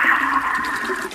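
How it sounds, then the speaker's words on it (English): A household toilet flushes with a steady, close rushing of water that fills the whole brief moment, with no talking over it. "Did you just flush the toilet?"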